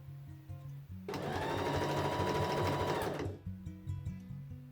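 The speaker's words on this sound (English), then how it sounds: "we're going to stitch this entire seam up and then fill over the edges." A sewing machine stitches a seam on 18th-century breeches in one continuous burst of about two seconds, a close, buzzing mechanical run that starts and stops abruptly, with quieter tonal background on either side.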